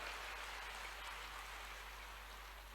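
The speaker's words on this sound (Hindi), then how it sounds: "जोरदार तालियों के साथ" Steady, dense applause from a large audience at a conference of newly elected village sarpanches, heard at a distance as a continuous wash of clapping with no voices.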